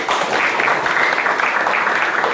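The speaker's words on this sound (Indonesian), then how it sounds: "Tepuk tangan dong" Audience applause at a university pickleball outreach session at Unsika, a steady broadband wash of clapping from a seated crowd, even and sustained throughout with no talk over it.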